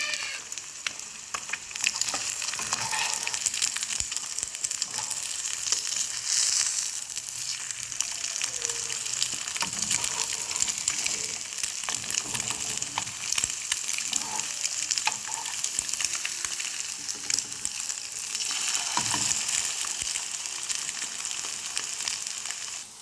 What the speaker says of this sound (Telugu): కొంచెం సాల్ట్ కూడా వేసుకొని దీన్ని కూడా మనం ఫ్రై చేసుకుందాం